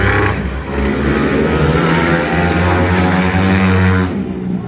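A 190 cc motorcycle tuned for methanol revs hard, a loud, close, buzzing engine note held high for several seconds before dropping off.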